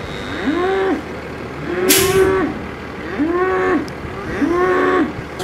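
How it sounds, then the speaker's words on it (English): Cows moo repeatedly, four long, loud calls in a steady rhythm, close by with a constant low background hum. "Lots of mooing."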